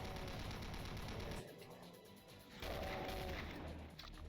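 Rapid bursts of gunfire from the video game Doom, dense repeated shots in two stretches separated by a brief lull, fairly loud and with no voices.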